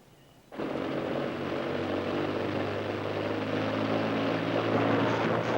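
A propeller aircraft taxiing forward slowly before takeoff, its engine rising abruptly from a low idle into a loud, steady, close drone with a faint pulsing throb that persists throughout.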